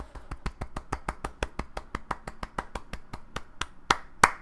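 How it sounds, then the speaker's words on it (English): Steady run of sharp, evenly spaced claps, fairly close and loud, ending in two heavier final claps, celebrating after a Total War: Warhammer II game; no talk over it. "Another round of applause."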